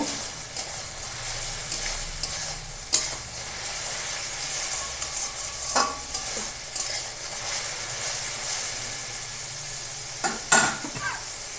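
Chicken sizzles in a hot pan as it is stirred with salt: a constant close hiss of frying, broken by occasional scrapes and clinks of the utensil against the pan.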